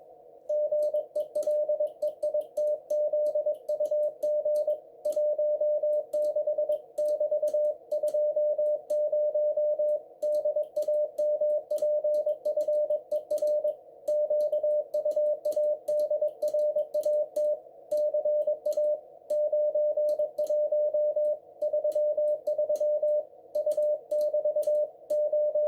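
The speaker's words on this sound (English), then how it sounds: "So we'll hear that sent in plain Morse first, which would have been the original form that messages were sent in." A German U-boat message goes out in plain Morse code as a steady, clean tone keyed in rapid dots and dashes. It runs without a break for the whole stretch, alone and with no talking.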